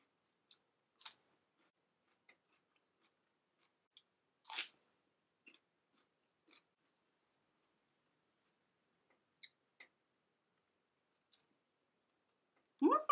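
Celery dipped in mayonnaise is bitten and chewed up close, with a few sharp, crisp crunches spread out between quiet pauses and a loud cluster of crunching at the end.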